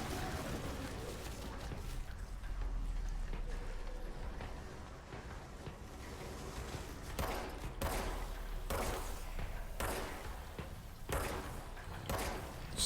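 Gunfire in the video game Control, a steady roar of game ambience broken by a run of loud, sharp shot bursts in the second half, several blasts in quick succession with no talking.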